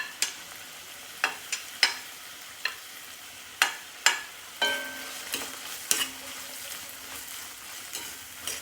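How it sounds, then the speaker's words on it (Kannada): Beans and carrots frying in a pan, with a soft steady sizzle broken by a series of sharp scraping strokes of a spoon or spatula stirring the vegetables, close and fairly quiet. "ಇದನ್ನೆಲ್ಲ ಒಂದು 2-3 ನಿಮಿಷ ಚೆನ್ನಾಗಿ ಫ್ರೈ ಮಾಡ್ಕೊಳ್ತೀನಿ."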